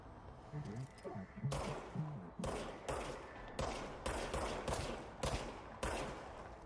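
Gunfire in the video game Control, a string of sharp, close bursts of shots repeating every half second or so, with a faint voice murmuring briefly before the firing starts.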